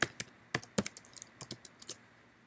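Fingers typing on a computer keyboard at close range, producing irregular clusters of crisp key clicks with short pauses between them, with no voices.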